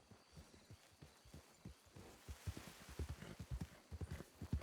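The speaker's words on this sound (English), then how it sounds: "I'll fetch my horse." Horse hooves clip-clop in a video game, a rhythmic galloping beat that starts faint and grows louder and closer as the horse approaches.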